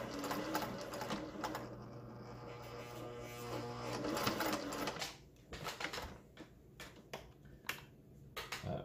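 A Singer 401A sewing machine stitches at varying speeds, its rapid mechanical whirring and ticking close and steady before breaking into short bursts and pauses, with no talking.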